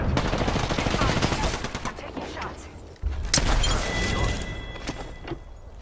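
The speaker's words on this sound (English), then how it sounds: "Look out, grenade." A grenade blast and rapid gunfire in Apex Legends: sharp shots and a heavy thump midway through, mixed with character callouts and other game voices.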